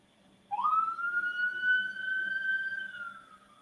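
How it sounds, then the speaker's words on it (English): An ambulance siren starts abruptly and holds a long rising then steady wail for about three seconds, fairly clear and alone against a quiet background. "it's an ambulance."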